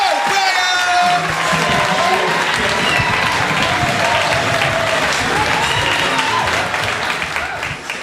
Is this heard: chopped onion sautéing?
no